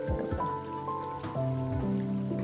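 Water pouring into a pot for making holige dough, a soft, steady splashing trickle with faint ringing tones, close by and fairly quiet.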